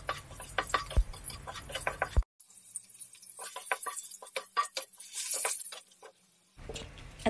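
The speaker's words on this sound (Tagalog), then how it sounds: "Ayan, haluin lang, haluin hanggang sa lumabas yung mantika niya." Chicken being stirred in a pan of oil with annatto for inasal na manok, giving soft intermittent scraping and sizzling patter, close and fairly quiet, with a short silent gap partway through.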